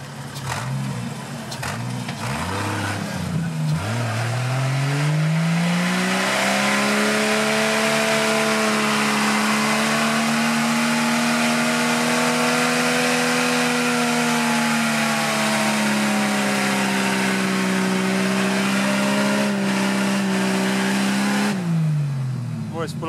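A car engine revs hard and steadily for about twenty seconds, its pitch climbing then holding high before dropping off, loud and close, with a few shouted voices near the start.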